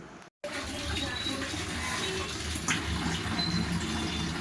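Water poured from above to wash out the inside of a pipe, a steady gushing rush after a brief silent gap, close and fairly loud with no speech.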